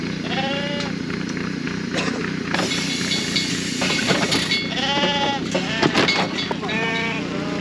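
Sheep bleat repeatedly, several voices near and loud, over a steady low rumble and clatter of a Clipex sheep handler on a farm, with clanking metal throughout.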